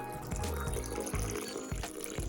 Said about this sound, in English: take that plastic drain knob and turn it to the left to drain the water